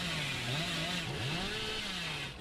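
A chainsaw in the Dead by Daylight video game drones steadily, its pitch wavering up and down as it revs for a couple of seconds.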